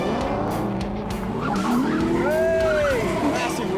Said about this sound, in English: Massive wheel spin off the line there.